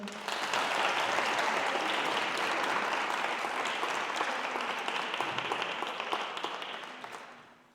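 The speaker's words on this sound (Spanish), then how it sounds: "Un fuerte aplauso." Audience applause at a poetry reading with poet Jesús Montiel in Fuenllana, a dense, steady wash of many hands clapping for about seven seconds before fading out at the end.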